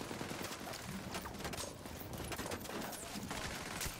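Gunfire in a shooter video game, with dense bursts of rapid shots crackling back and forth over steady background noise, sustained and fairly busy from start to finish.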